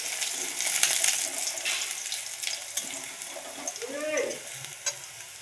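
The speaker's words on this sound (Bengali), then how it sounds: "রসুন বাটা আর লঙ্কাটাকে দিয়ে আমি রসুনটাকে একটু লাল করব।" Garlic paste and chilli frying in a hot oil tempering for a sweet-and-sour mango dal, a steady sizzle with stirring scrapes and a few clinks against the pan, close by.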